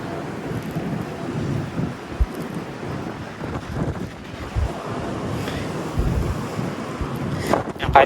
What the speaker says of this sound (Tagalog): Kahit medyo malakas po yung hangin